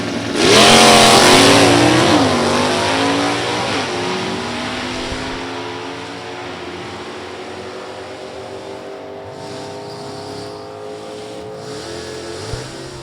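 A 1967 Camaro E-Stock automatic drag car launches hard at a drag strip, engine screaming loud up through the gears, then fading as it pulls away down the track.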